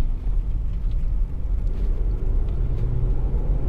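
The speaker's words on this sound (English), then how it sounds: "Engine pulls really sweetly." A Lexus IS 250 2.5 SE engine running smoothly, a steady low rumble heard from inside the car at moderate level with no voices.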